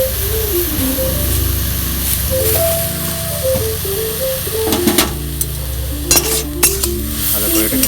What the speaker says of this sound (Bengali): এইটাকে একটু এরকম করে ভাজতে হবে